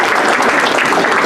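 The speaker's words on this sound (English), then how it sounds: "We also want to give a round of applause for Claire Clark." A council meeting audience applauds steadily, a dense, loud wash of clapping filling the room with no voices over it.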